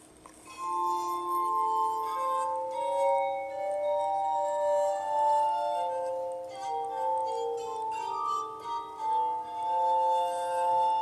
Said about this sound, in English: you can see the glass harmonica play